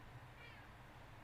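A cat meows faintly, a single soft, drawn-out call rising over a low background hum.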